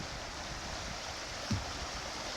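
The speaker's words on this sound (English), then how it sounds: "Water's definitely shooting up in the air." Water rushing over a small ledge and drop on Antietam Creek, a steady broadband wash of flowing rapids with one brief splash or knock partway through, no talking.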